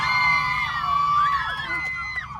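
A crowd at a college freshers' party auto show and car meet cheers loudly, with high shrill whoops and screams rising and falling over a continuous roar of voices.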